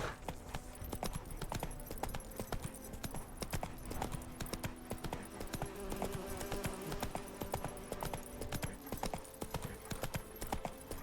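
Roach the horse trots in The Witcher 3, hooves clip-clopping in a steady, fairly close rhythm over soft ambient insect buzzing, with no voices.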